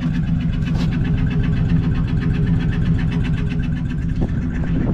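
A flathead V8 engine in a 1941 Cadillac 60 Special Fleetwood idles at about 800 RPM with a steady, low, pulsing exhaust rumble, close and continuous throughout.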